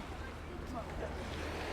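Sea waves wash onto a small stone beach in Old Portsmouth, giving a faint, brief, steady surf hiss with some wind noise on the microphone.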